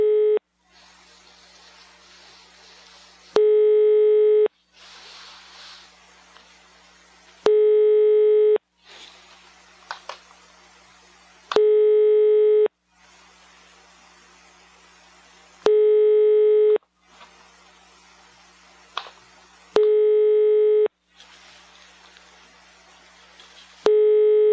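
Telephone call tones sound while a line connects to a random person in Sweden: steady, loud tone bursts repeat about six times, and softer faint ringing or line noise fills the gaps between them.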